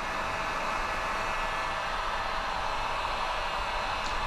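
A heat gun warms paint protection film on the hood of a Mercedes GLE 350, giving a steady, close, loud airy blowing hiss that stays even throughout with no pauses and no talking.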